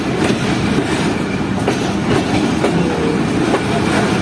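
Pak Business Express passenger train rolling along the rails, a steady loud rumble with rhythmic clickety-clack wheel beats running throughout.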